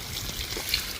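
Water splashes and trickles from a pipe into a tank, a soft continuous wash of flowing water at low volume.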